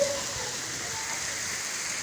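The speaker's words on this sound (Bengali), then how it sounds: "তো এখন শুধুমাত্র বৃষ্টি হচ্ছে, সাথে হালকা বাতাস আছে।" Heavy rain falling at Benapole, Jessore, after a storm, with a light wind; a steady, even hiss of downpour heard continuously without a break.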